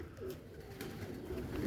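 Pigeons coo softly in a low, throaty murmur, several overlapping calls rising and falling close by without any talk.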